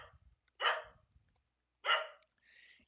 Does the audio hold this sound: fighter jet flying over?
no